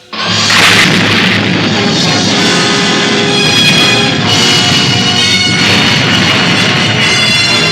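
A new missile fires and explodes, opening with a sudden loud blast that rolls into a long, dense roar and rumble lasting several seconds.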